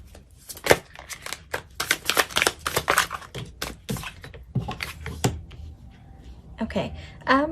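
Tarot cards riffled and shuffled by hand at close range, a run of crisp rapid flutters and slaps with short pauses, and a voice talking over part of it.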